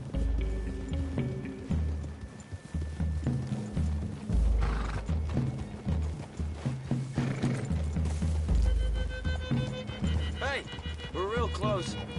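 Horses trot with rhythmic clip-clop hooves and occasional whinnies in the video game Red Dead Redemption 2, heard under steady game music and voiced dialogue.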